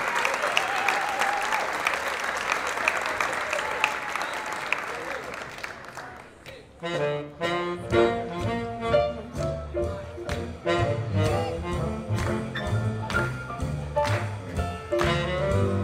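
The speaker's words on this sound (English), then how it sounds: "Clap those hands." A crowd at a Lindy Hop dance event claps and cheers for a swing band, the dense applause fading after six seconds as the band strikes up a bright, rhythmic tune with punchy brass and a steady beat.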